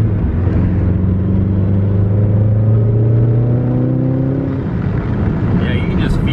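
Subaru under full throttle with a misfire and boost cut, engine tones climbing steadily then dropping off, loud and close from inside the car, with a brief faint knock near the end.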